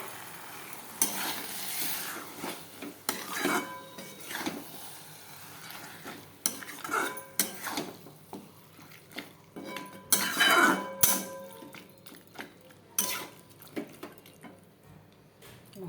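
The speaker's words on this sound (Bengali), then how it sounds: "মাংসটা কড়াইতে ভালো করে কষায় নেব" Meat cooks with yogurt in a karai, a wok-style pan, as a spatula scrapes and stirs in irregular bursts over a steady low sizzle, the metal-on-metal clinks sounding close and fairly loud.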